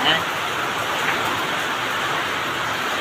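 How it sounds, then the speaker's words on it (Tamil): Dense, steady rain hisses continuously, broad and close, with a rushing, gusty wash behind it. "காற்று அடிக்குது மழையும் பெய்யுது"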